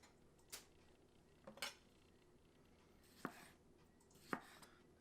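A knife slices a tomato into chunks on a cutting board, giving four quiet, separate chops spaced about a second apart, close and crisp over a low background hush.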